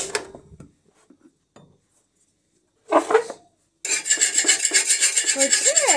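Roti dough rolled out by hand at home in the morning, with a few faint knocks, a brief scrape, then a steady rhythmic rasping rub repeating close by for the final seconds.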